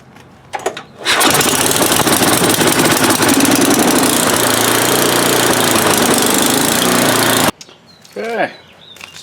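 Tecumseh Snow King snowblower engine after carburetor and fuel tank cleaning, a few pulls, then a loud steady running drone that cuts off abruptly, followed by brief talk.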